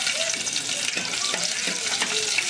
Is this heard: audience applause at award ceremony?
no